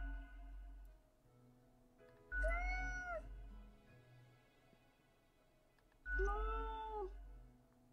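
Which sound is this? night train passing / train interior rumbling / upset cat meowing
upset cat meowing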